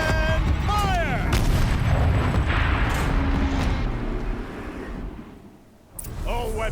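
Heavy turret weapon booms out in Horizon Zero Dawn, a loud rumbling blast with trailing roar, under overlapping game dialogue and a voice speaking.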